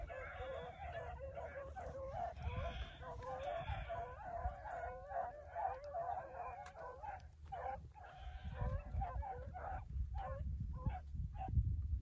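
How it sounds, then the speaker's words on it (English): Hunting dogs bay during a rabbit hunt, a chorus of overlapping, wavering howls heard at a middle distance with a constant outdoor rumble beneath. "Listen at your dogs"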